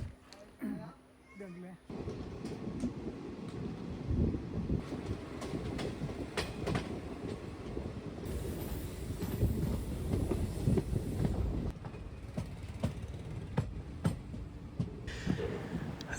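Mangalore–Shoranur passenger train running near Tirur in Kerala, a steady close rumble of wheels and carriage noise with rhythmic clatter, continuous and fairly loud after a brief quieter opening.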